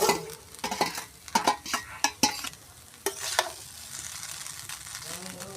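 Egg chowmein is stirred in a frying pan, village style, with a string of sharp scraping and clattering strokes over a soft sizzle, then a quieter steady frying hiss, with no speech.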